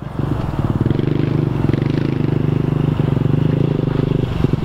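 A mini dirt bike engine chugs along in first gear nearby, a loud, steady, fast pulsing putter that holds an even pitch for several seconds before easing off.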